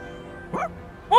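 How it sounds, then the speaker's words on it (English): A puppy in the Persona 3 Reload video game gives two short, high yips a moment apart, close and clear, with no talking. "Oh! Oh! Little puppy!"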